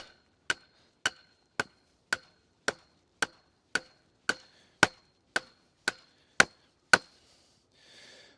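Hammer striking untreated wood on an allotment, thirteen sharp, evenly spaced blows about half a second apart, close and clear with no talk.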